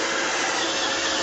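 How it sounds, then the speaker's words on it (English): An iRobot Roomba robot vacuum cleaner roaming a room, giving a steady, even motor whir with a bright hiss and no breaks or voices, fairly close. "it is automatically spinning around, and it is moving all around the room"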